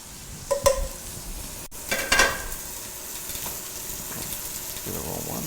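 Shrimp and wild mushrooms sautéing in a pan, a gentle sizzle with a couple of louder bursts of stirring or tossing early on, then a steady low frying hiss.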